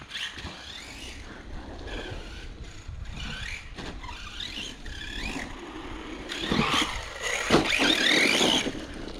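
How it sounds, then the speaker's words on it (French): An Absima Stroke RC car drives over rough ground with a whirring motor and a gritty grinding from a soft, worn transmission pinion. The sound is moderately loud and grows stronger toward the end. "pignon de transmission un peu trop mou, déjà aiguisé, c'est là que vient le bruit"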